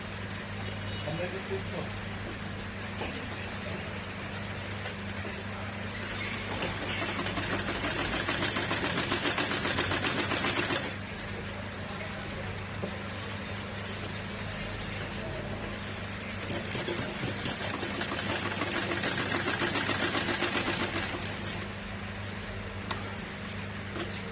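A sewing machine runs steadily, stitching a neckline in two long continuous bursts separated by a quieter pause. Someone talks over the machine's hum throughout.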